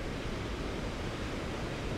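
A waterfall in a snowy winter landscape, a steady, dense rushing of falling water, continuous and fairly close, with no talk.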